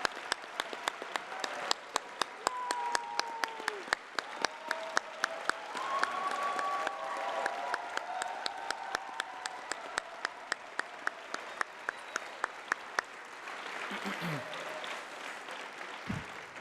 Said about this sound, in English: please join me in applauding the honors here tonight